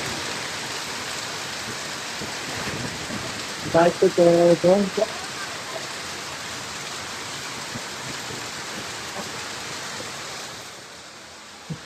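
Heavy rain falls outside as a steady, broadband hiss that continues without a break, with a brief spoken exchange partway through and the rain easing slightly near the end.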